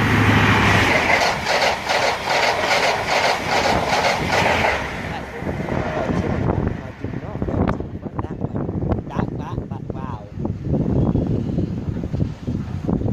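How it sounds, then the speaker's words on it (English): A Great Western service from Bristol Temple Meads to Paddington passes Southall station. A loud rushing roar with a rapid rhythmic clatter of wheels fades into rattling and wind noise as someone talks over it. "now passing by is actually 1 Alpha 13, the 1204, service to Paddington from Bristol Temple Meads"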